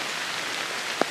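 Early September rain on a newly planted food plot, a dense even patter of drops steady throughout, with one slightly louder drop near the end and no voices.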